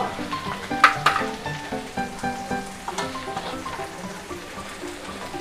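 Cumin, asafoetida and turmeric sizzle in hot oil in a pan, a steady close frying crackle with a few sharper pops and spoon scrapes, no voice over it.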